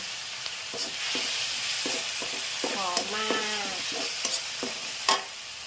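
Thai red curry paste stir-fried with a splash of fish sauce for a pork tongue curry, a soft steady sizzle under faint scraping strokes, with a voice speaking briefly over the pan.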